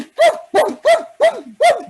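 A dog barks five times in a steady rhythm, loud and close, in a snowy wilderness scene from the old-time radio drama Sgt. Preston, with no voices over it.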